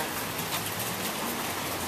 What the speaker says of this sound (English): Guess what? It's raining.